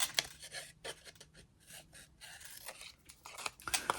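Scissors snip a tiny triangle out of card while making a hanging gift box, giving a close run of short crisp cuts with brief scraping between them, fairly quiet, with no talking.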